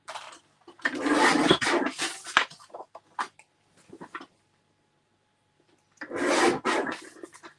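Paper photo mat being trimmed for scrapbooking gives rasping, scraping cutter strokes in two bursts separated by a near-silent pause, close and fairly loud with no talk.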